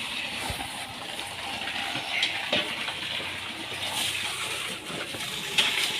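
A household water tap runs into a vessel, giving a continuous, moderately loud gush of filling water with slight swells and no pauses.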